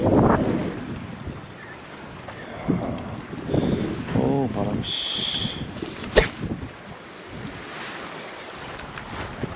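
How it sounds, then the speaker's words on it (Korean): Strong wind buffets a breakwater at Geoje's Mongdol beach during rockfish fishing, a steady roar with surf-like rushing and gusts throughout, while someone talks briefly over it. "오우, 바람."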